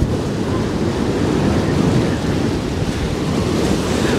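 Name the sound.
strong wind and waves on a boat among icebergs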